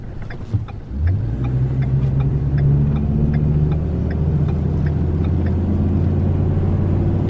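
A 2016 Ford F550 Jerr-dan MPL40 tow truck pulls onto a highway, its engine swelling from idle into a steady, loud low rumble with faint clicking ticks above, continuing without speech.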